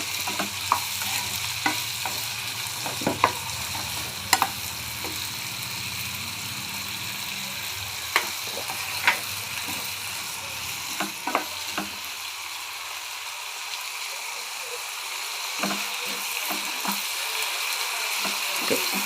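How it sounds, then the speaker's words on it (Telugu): Potatoes fry with turmeric and salt in a pan, a steady dense sizzle running throughout while a spoon stirs and scrapes in irregular clicks and knocks, with no speech. "ఇవన్నీ కూడా ఫ్రై అయ్యే వరకు మనం గోల్డెన్ కలర్ వచ్చే వరకు వేపుకొని"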